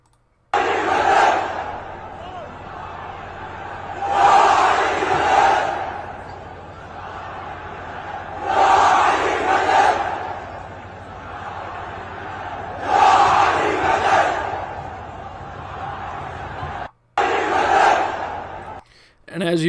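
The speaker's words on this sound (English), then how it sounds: "Hundreds of thousands of Yemenis march in Sana'a, Ansarullah-controlled Yemen, late at night demanding revenge for the Israeli assassinated government figures" Huge night-time crowd of hundreds of thousands of Yemenis marching in Sana'a, chanting in loud, rhythmic surges that rise and fall roughly every four seconds, with a sustained crowd roar between the waves.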